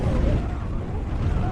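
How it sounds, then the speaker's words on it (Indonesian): A restaurant explosion in a firefighter rescue film, a loud deep booming rumble that fills the whole moment with dense low-end roar and no break. "sampai kemudian restoran pun meledak"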